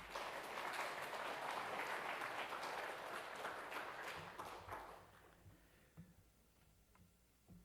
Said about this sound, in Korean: 나오실 때 힘찬 박수로 맞이해 주시면 감사하겠습니다